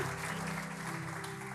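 A church congregation claps during a sermon, a soft continuous patter of many hands heard faintly over a low, steady hum from the hall.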